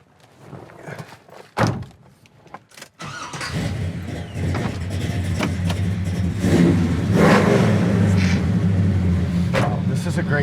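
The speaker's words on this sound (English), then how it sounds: "This is a great sounding Chevelle" A 1969 Chevelle Malibu SS V8 starts with a thunk, then revs and idles loudly and steadily up close, with a rough throaty rumble and faint voices in the background.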